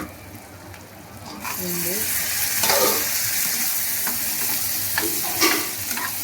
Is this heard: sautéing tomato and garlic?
yes